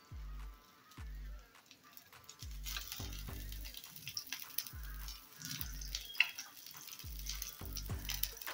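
Corn uttapam batter made with curd and soda frying in oil on a pan, a soft steady sizzle sitting beneath a loud repeating bass-heavy music beat.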